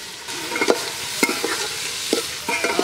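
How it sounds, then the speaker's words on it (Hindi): Spices being fried and stirred in a pan at a village stove, steady soft sizzle with scattered scraping stir strokes, close and alone. "अच्छा से इसे भूनेंगे।"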